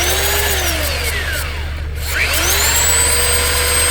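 Belt sander running at full power from the onboard generator of a 2023 Ford Super Duty, a loud steady whine and rush that holds throughout with a brief dip and swelling pitch midway, no talking.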